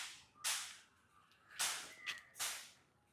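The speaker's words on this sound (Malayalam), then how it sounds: "അമ്മു പടക്കം പൊട്ടിച്ച്" Diwali firecrackers burst outdoors: three sharp, fairly distant bangs about a second apart, with quiet gaps between them and no voices.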